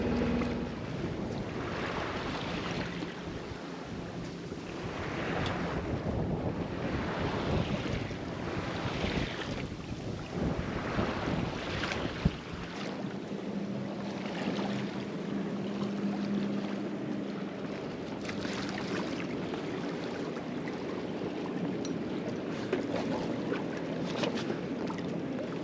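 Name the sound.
sailboat sailing in wind on the ocean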